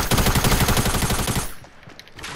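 Fortnite gunfire: a loud, rapid burst of automatic shots in a tight rhythm lasting over a second, then cutting off to a quieter background with faint stray noises.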